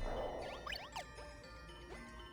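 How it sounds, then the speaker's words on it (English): Bell-like tinkling game music from the Ice World stage of Kirby 64: The Crystal Shards, with soft chiming notes and gliding tones over a sustained pad, quiet and steady throughout with no talking. "it's like bells"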